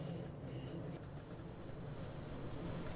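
Long-distance passenger train with a power car at each end rolling through Frankfurt Hbf in Train Sim World 6, a continuous low rumble of wheels on rails with faint high squeals, steady and even throughout.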